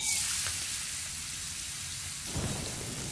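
Steady heavy rain hisses through a stormy scene in The Forest video game, with a low rumble of thunder swelling partway through.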